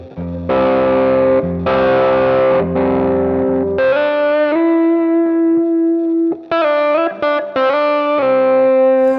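Electric guitar through a JOYO JF-12 Voodoo Octave fuzz pedal with a thick, buzzing octave-fuzz tone, strummed chords ringing out loudly, then sustained notes and short choppy stabs, no voices.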